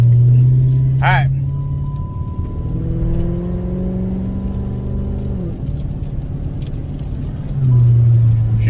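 An AWD Hemi car drives along with a steady engine drone that rises in pitch and drops through gear shifts, heard from inside the cabin while someone talks.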